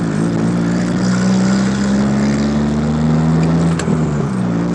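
A Probe GT with side-exit exhaust drones loudly from inside the car while driving with the window down, a steady low engine hum holding near-constant pitch with a slight rise, no voices.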